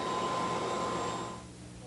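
Kirby Heritage 2 upright vacuum cleaner running over carpet, a loud steady motor whine and airflow roar close by that shifts and softens slightly toward the end, with no talking.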